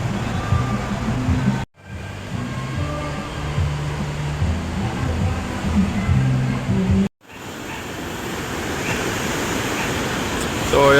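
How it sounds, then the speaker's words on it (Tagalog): Rough sea surf rolling in at Patar Beach in Bolinao, Pangasinan, a steady broadband roar of waves near the shore, continuous and fairly loud with two brief dropouts. "Maligalig ang dagat."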